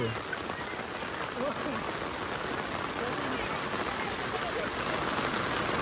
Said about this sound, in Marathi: पाऊस पडलाय